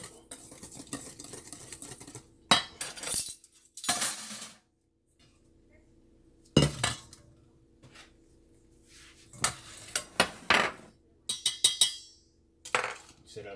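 Whisking Louisiana Crunch cake batter ingredients in a bowl: scattered bursts of clinking, scraping strokes, some short and some sustained, close and fairly loud, separated by quiet gaps.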